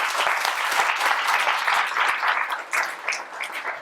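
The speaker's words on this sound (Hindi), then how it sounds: "एक बार जोरदार ताली बजाओ" An audience at a religious discourse claps enthusiastically in a dense, continuous burst of applause that swells and dips slightly, filling the room.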